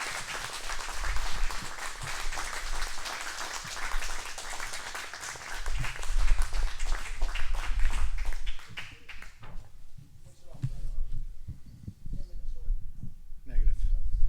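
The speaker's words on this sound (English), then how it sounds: "let's give another round of applause for Sully." Applause from a small audience, heavy and dense at first, then thinning to scattered claps with muffled voices and low bumps in the room before it briefly swells again.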